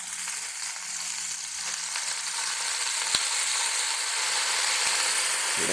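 Caramelizing onion with a splash of soy sauce sizzles loudly and steadily in a hot pan, a dense continuous hiss that swells slightly, with a couple of faint clicks and no voices.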